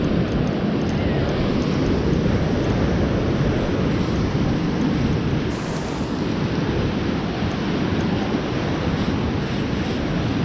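Ocean waves and strong wind at the beach in Fort Morgan, Alabama: a steady, loud roar of surf mixed with buffeting wind noise on the microphone, continuous throughout with no clear breaks.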